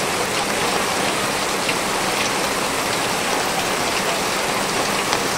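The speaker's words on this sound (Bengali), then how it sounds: "ওরে বাবা, দেখো প্রচুর বৃষ্টি নেমে গেছে বাইরে," Heavy rain pours down outdoors in a steady, dense hiss of countless drops striking surfaces, unbroken throughout and with no one speaking.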